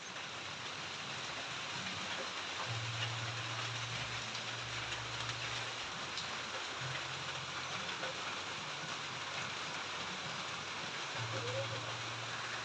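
Light rain falls steadily outdoors, a soft, even hiss of drops on surfaces lasting throughout, with a low hum faintly underneath.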